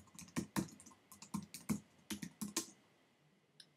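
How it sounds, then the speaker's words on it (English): A password is typed on a computer keyboard in a quiet room: a close, brisk burst of about a dozen light keystroke clicks, then a single last tap. "and type in the password"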